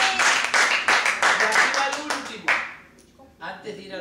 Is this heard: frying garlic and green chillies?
no